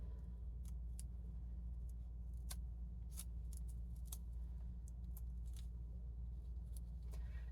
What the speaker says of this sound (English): You are cutting through a lot of layers of paper